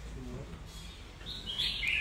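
A wild-caught songbird, kept about two seasons, gives a few faint, high chirps near the end over low background noise.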